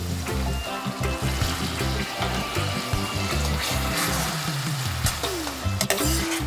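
Tomato puree poured onto translucent fried onions in a pan hisses into a steady, loud sizzle with bubbling and stirring sounds throughout.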